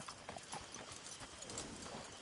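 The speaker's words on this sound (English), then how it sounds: "You know you're not supposed to have that horse." Horse hooves clip-clop steadily on hard ground in a PS4 video game, a close, even rhythm of hoofbeats with busy game ambience around it.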